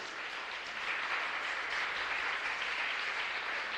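A church congregation applauding to welcome new visitors during a Sunday worship service, a dense, steady round of clapping from many people in a large room, sustained throughout.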